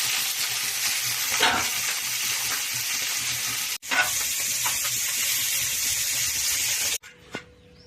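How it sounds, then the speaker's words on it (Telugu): Dried fish frying in hot oil in a home kitchen for a meal with ash gourd sambar, with a loud continuous sizzle and brief breaks as the pan is moved. "అవి కూడా ఆయిల్లో ఫ్రై చేసుకుంటే బాగుంటాయి."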